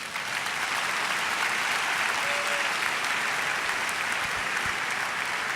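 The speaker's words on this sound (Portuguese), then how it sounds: "Aplaudam, por favor." An audience at a talk on emotion management claps steadily, a dense, even round of applause at moderate distance with no talk over it.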